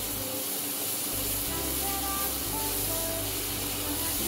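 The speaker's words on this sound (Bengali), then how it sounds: "এবার আমি মশলাটাকে ভালোভাবে কষিয়ে নেব।" Spice paste sautéing in a pan for tomato chutney, a continuous steady hiss and sizzle heard close and fairly even throughout, with no talk.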